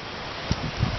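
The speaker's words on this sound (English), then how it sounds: "you can hear that wind in the background" Steady broadband wind roaring during Hurricane Isaac, a continuous outdoor rush with a couple of low gusty thumps against the microphone, lasting about a second with no talking.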